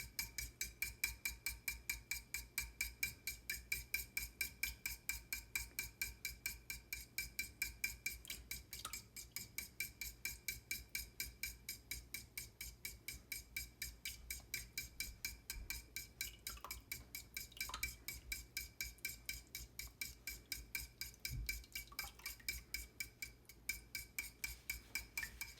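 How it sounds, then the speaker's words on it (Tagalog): Melted butter is stirred into puto batter in a bowl with a steady, rapid rhythm of faint, quiet scraping and clinking from the utensil against the bowl. "ihalo na po natin ang melted butter sa ating mixture"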